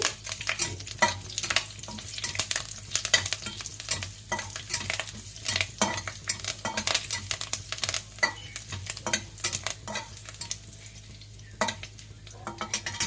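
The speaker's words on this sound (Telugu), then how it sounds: "జీలకర్ర ఆవాలు ఎండుమిర్చి ఇవి వేసేసుకోవాలి కొంచెం కరివేపాకు వేసేసుకొని ఒకసారి పోపు వేపేసుకోండి" Cumin, mustard seeds, dried red chillies and curry leaves frying in hot oil as a tempering, a dense continuous crackle and sizzle with frequent spoon scrapes and clinks against the pan, close up, no talking.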